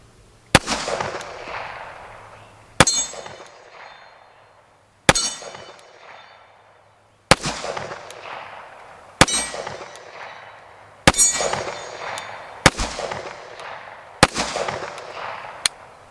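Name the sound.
Springfield Operator 1911 pistol shots ringing on steel targets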